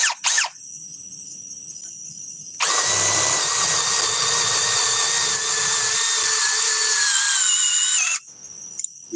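A Ryobi drill set to drill mode at speed 2 drives in for about five seconds, loud and close. The motor whines with a rising squeal, between brief bursts of motor noise before and after.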